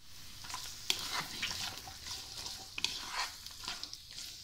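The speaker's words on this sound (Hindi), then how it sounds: "इन सब चीज़ों को हल्का सा हमने फ्राई कर लेना है, रोस्ट कर लेना है थोड़ा सा ही" Onion and vegetable cubes lightly fry in a pan for chicken jalfrezi, a soft crackling sizzle broken by scraping stirs and a few sharp taps, fairly quiet and close.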